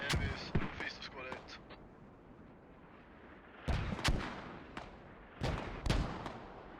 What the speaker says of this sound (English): Mortar's really packing a punch here on Hemp Farm